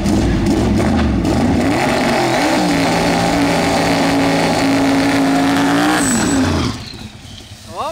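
A loud race car engine roars and holds a high rev while accelerating down the track, then drops off sharply near the end, leaving quieter rumbling behind.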